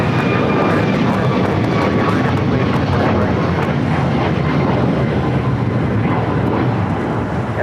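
A jet airliner takes off from a runway at LAX, a loud, steady roar of engines that fills the whole stretch, with faint radio chatter underneath.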